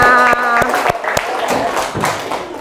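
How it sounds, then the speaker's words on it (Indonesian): Schoolchildren in a classroom give a short round of applause, a few distinct hand claps ringing out close by, mixed with voices and chatter. "Ya, sudah beri tepuk tangan buat kalian semuanya."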